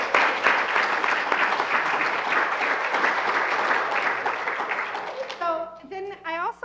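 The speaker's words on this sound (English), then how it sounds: "Give them applause." An audience applauds for returned Peace Corps volunteers, a dense, continuous roar of clapping that ends abruptly, after which a single voice speaks.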